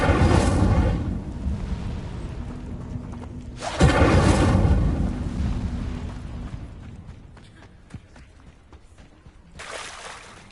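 A magical Incendio fire spell bursts out in a loud roaring whoosh, swells again midway with a deep rumbling blast, then fades into crackling debris before a smaller flare near the end.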